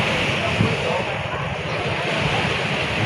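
Steady ocean surf rushes and washes continuously, a broad roar of waves during strong northeast monsoon winds, with some wind noise over the microphone.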